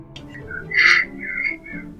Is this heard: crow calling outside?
yes